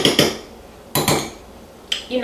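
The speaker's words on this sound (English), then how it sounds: "I'm just going to mix this with the spoon" A spoon mixes chocolate chocolate chip muffin batter in a bowl, making three loud, close clanks and scrapes against the bowl spaced about a second apart.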